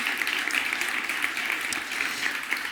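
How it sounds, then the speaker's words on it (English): Brief, bright burst of audience applause at a kids' competition on an outdoor playground stage, many hands clapping densely and evenly throughout. "Big applause for her,"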